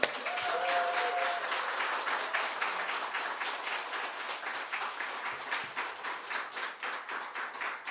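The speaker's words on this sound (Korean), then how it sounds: "우리 환호하면서 크게 박수로 마십시오" A church congregation at Sunday worship in Ulsan applauds loudly and steadily, a dense wash of clapping that keeps going and settles into a more rhythmic beat toward the end.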